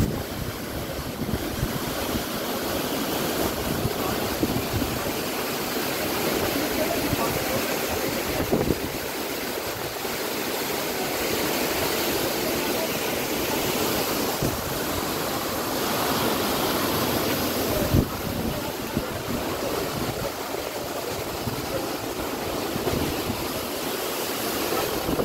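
Namaste waterfall at Dhankuta pours in a continuous, dense roar of falling water, steady and unbroken throughout, with occasional soft wind buffeting.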